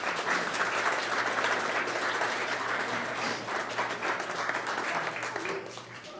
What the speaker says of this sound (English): give them a round of applause right now